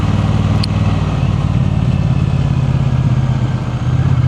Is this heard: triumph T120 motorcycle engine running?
yes